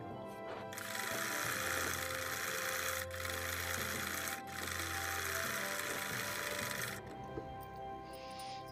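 A sewing machine stitching the hem of a ladies' suit, running in a loud, fast, even whir that pauses briefly twice before stopping near the end, leaving quiet handling sounds; no speech.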